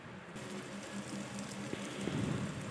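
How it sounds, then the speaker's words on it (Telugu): Water is poured off soaked rice while making egg biryani, a steady close splashing stream that runs continuously and grows slightly louder toward the end, with no talking. "ఇలా కలుపుకున్న తర్వాత మనము బియ్యంలో నీటినల్లా వంచేసుకోవాలి"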